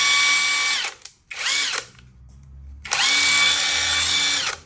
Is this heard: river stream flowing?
no